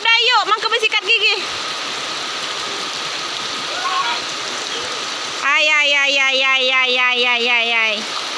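Steady rain hisses down while a child bathes in it outdoors, a continuous wash of falling water, with voices talking loudly before and after the rain is heard alone.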